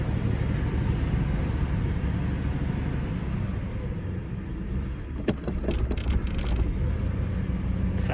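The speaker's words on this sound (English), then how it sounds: "When it's first started up cold, it idles too slow, and yet after it's warmed up, it idles too fast." A Ford Fox-body car engine idles steadily after a cold start, a continuous low rumble heard close up with a few brief metallic clicks partway through; no one talks.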